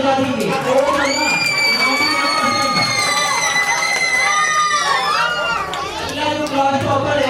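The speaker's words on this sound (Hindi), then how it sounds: "लोग जोरदार तालियां बजा दीजिए।" A school celebration audience cheers, shouts and whoops loudly, with children's voices rising in a sustained, excited crowd roar that dips briefly near the end.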